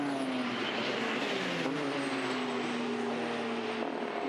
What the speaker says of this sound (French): Toyota numéro 8 qui passe le virage de Mulsanne